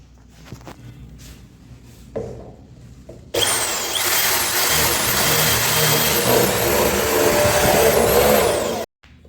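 A spade bit is driven by a power drill through a wooden drawer front while a lock is being fitted, giving a loud, steady whirring grind that starts abruptly after quieter handling noises and stops suddenly near the end.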